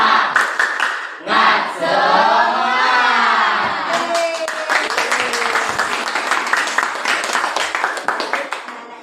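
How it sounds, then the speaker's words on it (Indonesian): A classroom of children does a group spirit clap, rhythmic clapping and shouted chanting from many young voices, loud and close, with a cheering crowd feel that settles into steady patterned claps toward the end. "Mari kita sama-sama tepuk semangat"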